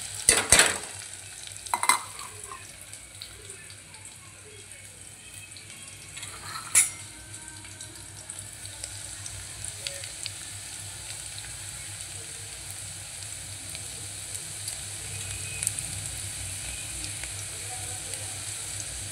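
Chopped onion fries in a pan until browned, giving a steady low sizzle with a few sharp clinks and scrapes of stirring near the start, and no talking.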